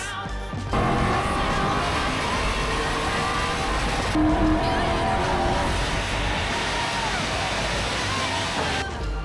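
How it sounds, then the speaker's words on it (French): Race cars lapping a racing circuit during a competitive event make a continuous, loud engine roar that stays dense and steady throughout, with no clear breaks. "Le meneur de l'épreuve, William Larue, dans la voiture 45, s'amène dans les retardataires."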